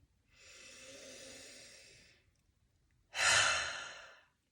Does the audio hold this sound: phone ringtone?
no